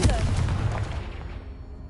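A Confringo fire spell explodes in Hogwarts Legacy, a single loud booming blast at the start that rumbles and slowly decays away, with faint background sounds.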